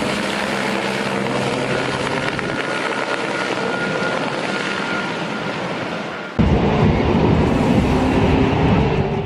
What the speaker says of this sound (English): one farmer turned to helicopters